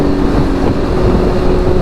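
A motorcycle engine drones steadily on a cold 30-degree ride, a loud continuous rumble mixed with heavy wind buffeting the microphone.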